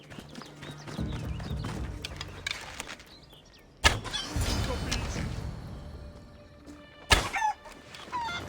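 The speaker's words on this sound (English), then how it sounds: "Now I'm going to show you how to kill a chicken." Chickens cluck in an Assassin's Creed Odyssey game scene, mixed with clip-clopping hooves and ambient game noise, with two sharp loud hits standing out.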